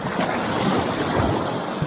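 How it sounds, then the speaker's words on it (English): Ocean waves crashing on rocks along the Cornish coast near a sea stack, a loud continuous roar of surf and foam close by, with wind buffeting the microphone. "the waves are just crashing up behind me"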